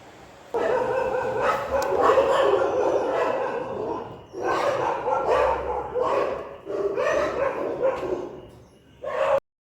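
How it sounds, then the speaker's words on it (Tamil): Several dogs bark and yip repeatedly at night in bursts across the stretch, fairly close and loud, with short pauses between volleys and a few whimpering notes. "நைட்டு ஃபுல்லும் டாக்ஸ் கத்திக்கிட்டே இருக்கும், நாய்ங்க"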